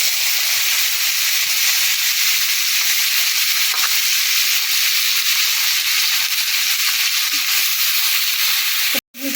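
Squeezed winter vegetables dropped into hot oil with a spice tempering and green chillies for a Bengali chorchori, giving a loud, steady, close sizzle that holds throughout before cutting off briefly near the end.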